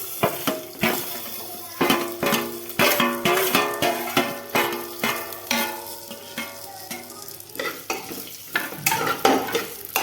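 Broken wheat lapshi roasting with coconut and dry fruits in a pan, a spoon scraping and stirring in steady repeated strokes over a soft sizzle, close and fairly loud with no talking.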